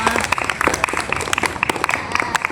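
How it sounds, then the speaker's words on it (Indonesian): A group of students in a class doing rolling exercises claps together in dense, busy applause that runs steadily throughout, fairly close and loud. "Oke, tepuk tangan dulu buat kita semua."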